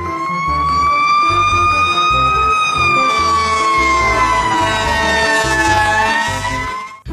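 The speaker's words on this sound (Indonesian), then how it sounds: "ada truk pemadam kebakaran" A loud wailing toy fire truck siren rises and falls slowly, close and continuous, with a pulsing low rumble underneath.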